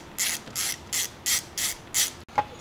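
A ratchet wrench removes the valve cover bolts on an offroad shifter buggy engine in six evenly spaced bursts of rapid, close clicking, followed by a short clink.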